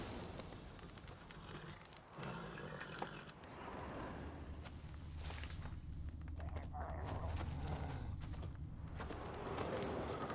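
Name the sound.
horse Roach trotting, from the video game The Witcher 3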